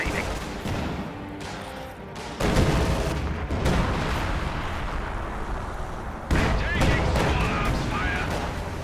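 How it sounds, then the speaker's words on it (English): Bunker busting artillery barrage in a real-time strategy match, a dense, loud, continuous roll of booming blasts and gunfire with heavier surges of impacts partway through and again near the end. "Bunker busting barrage being used at range."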